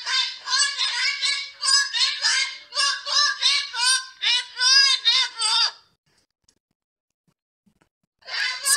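A goose-like bird honks in a rapid string of loud, harsh squawks for about six seconds, close by, then stops for a brief silence before another burst begins.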